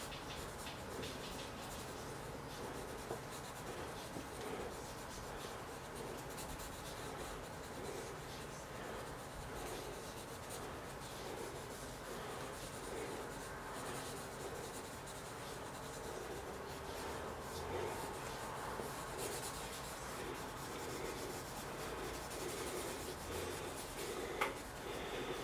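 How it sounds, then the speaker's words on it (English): Graphite pencil scratches and rubs across paper as a portrait head is quickly sketched, a steady, close, dry scratching that runs unbroken for the whole span with a slight rise near the end. "it's just the way you munge the pencil together"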